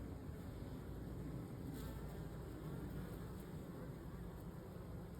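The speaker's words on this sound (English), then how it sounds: "if I go up to the bucket on the side, I can hear just see that bee right there is fanning" Honeybees fanning at a 5-gallon bucket used as a swarm trap, a steady faint buzzing hum that carries on without pause throughout, with no talking.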